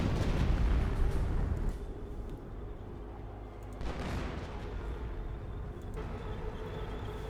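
An artillery barrage in Company of Heroes, a World War II strategy video game. A heavy blast opens the clip, and further explosions boom at intervals over rumbling battlefield noise.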